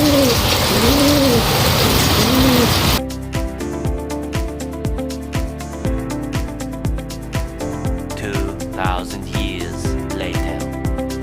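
A racing pigeon, a Blue Bar, arrives home from a derby race from Aparri, Cagayan to Silang, Cavite. Close, soft coos open the scene, followed by a steady rhythmic tapping or pattering.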